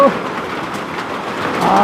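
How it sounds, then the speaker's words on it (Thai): Heavy rain pours down steadily in a dense, continuous hiss, loud and close, with a voice speaking faintly underneath. "ฝนมิดใหญ่แท้นี่เนาะ"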